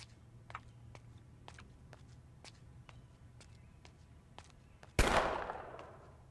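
In the video game Project Zomboid, soft ticking footsteps pace along before a single loud gunshot bursts out and rings away in a long decaying tail.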